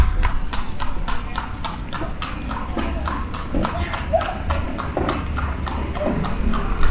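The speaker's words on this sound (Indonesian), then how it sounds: "kalau korang dengar bunyi kereta kuda." Hooves of a horse-drawn carriage clip-clop in a steady, evenly spaced rhythm along a street in Bali, moderately close, over constant traffic and street noise.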